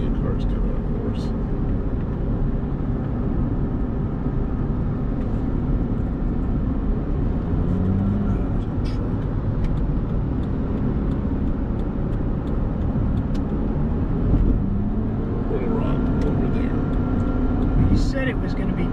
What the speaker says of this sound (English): Oh, there's a million cars coming, of course.